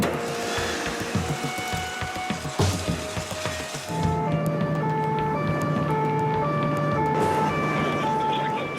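A two-tone French police siren alternates in a steady rhythm after a burst of noisy street clatter, loud and close with traffic rumbling underneath.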